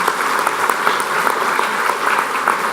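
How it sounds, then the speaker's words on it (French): Audience at a Grand Lodge meeting claps steadily, a dense, even wash of many hands applauding, loud and continuous for the whole moment. "Je pense qu'on peut l'applaudir d'abord."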